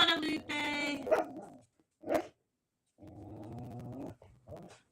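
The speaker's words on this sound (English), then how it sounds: "you need to stop barking because they can't hear me" A dog barks in short repeated bursts, close and loud, with yips and whimpering between barks and gaps of quiet; a person speaks briefly amid the barking.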